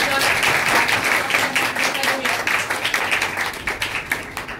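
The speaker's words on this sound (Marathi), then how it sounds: "पहिल्यांदा सर्वांनी जोरदार टाळ्या वाजवून" An audience at a community gratitude ceremony and birthday celebration claps loudly and continuously, dense applause that thins toward the end.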